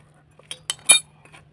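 A metal spoon clinks against a pot of hot food in a few sharp, bright taps, spaced irregularly, close by with no other sound around them.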